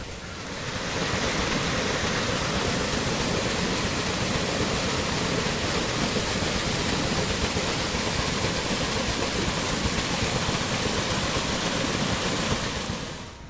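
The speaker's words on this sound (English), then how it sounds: "And we look back over toward the waterfall." Rushing water roars steadily from a waterfall in Tuscumbia, Alabama, a dense, constant wash of noise that fades in and out at the edges, with no voices.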